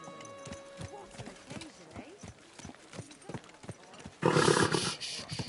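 Horse hooves clop at a steady walking rhythm in the Kingdom Come: Deliverance 2 video game, near and moderately loud under talking voices, before a loud burst of crowd-like roaring at a tournament near the end.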